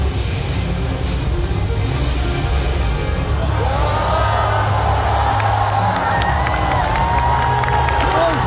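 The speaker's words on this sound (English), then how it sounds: "That was the crowd" A large crowd cheers loudly and continuously, with whoops and shouts rising over a dense, sustained roar throughout.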